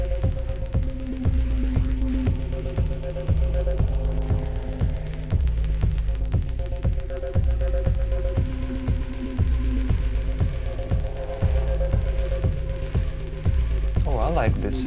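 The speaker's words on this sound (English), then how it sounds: "Let's add this instead, the reverb, to get more speed for this percussion." Modular synth percussion patched in VCV Rack and run through a fully wet reverb, with steady, rapid, evenly spaced hits over a sustained tonal drone, loud and continuous throughout.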